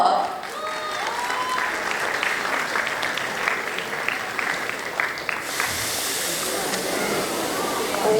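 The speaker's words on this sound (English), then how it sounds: "Please give a big round of applause for Dr. Sreedip Shaw." Audience applause rings out at the R G Kar convocation, a dense wash of clapping that holds steady and turns more hissy near the end, with faint voices underneath.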